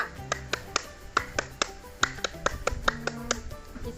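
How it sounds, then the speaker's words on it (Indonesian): Sharp, distinct hand claps ring out in a brisk rhythmic sequence, about twenty crisp strikes in a patterned Indonesian scout clap (tepuk pramuka), close and clear with no talking. "Contohnya adalah tepuk pramuka."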